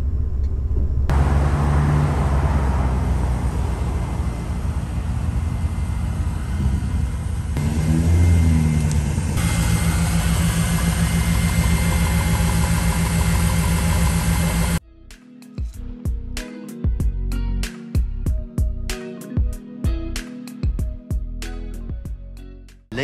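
A station wagon's engine, fresh from exhaust shop work, first gives a steady loud rumbling drone, then a choppier stretch of sharp revs and pops with gaps between them.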